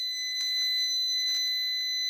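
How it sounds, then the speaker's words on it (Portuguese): Temperature device beeping after reaching 70 degrees: a steady, piercing high electronic tone held throughout, with faint rustling behind it and no talk. "Esse bip pode durar até uns 25 segundos."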